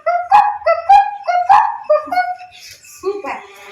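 A voice imitates a hen clucking, giving a quick run of sharp, rhythmic clucks, close and loud, that trail into softer sounds at the end.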